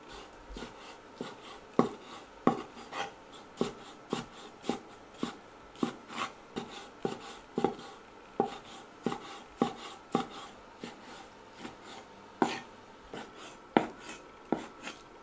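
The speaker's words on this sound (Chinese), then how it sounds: "先来剁一点肉馅儿。" Pork being minced with a knife on a board for a steamed meat-roll filling, a steady run of sharp chopping thuds, roughly two to three per second, close and alone without talk.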